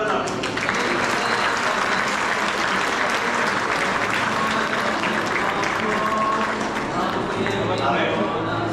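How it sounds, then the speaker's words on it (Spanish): Guests at a church baptism break into sustained applause, continuous clapping from a gathered crowd with voices mingled in, loud and even for the whole stretch. "Un aplauso para Leonardo."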